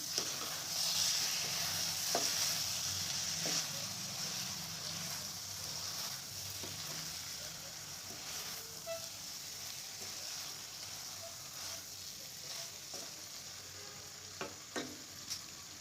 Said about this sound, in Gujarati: હવે આ બધી વસ્તુને આપણે મિક્સ કરી લઈશું